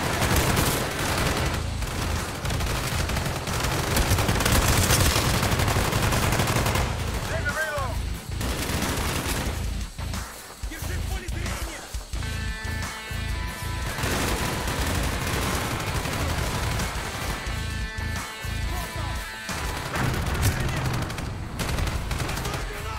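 Sustained automatic LMG fire from an H&K light machine gun in Call of Duty: Black Ops, loud and dense with bursts running through most of the stretch, under occasional game voices and effects.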